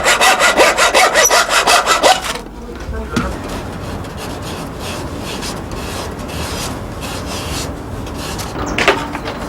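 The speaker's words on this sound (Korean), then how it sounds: "시위 들어갈 자리를 고려해서 실톱으로 자른다." Coping saw cutting through a piece of gwangdae-sal wood for a traditional arrow, a loud rhythmic rasping stroke sequence for about two seconds, then quieter scraping and handling of the wood.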